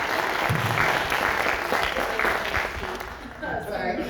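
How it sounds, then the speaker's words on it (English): Enthusiastic audience applause fills a film screening of Black Bird, a dense, sustained clatter of many hands with faint crowd voices mixed in, lasting throughout. "as they are breaking out in applause every chance they get"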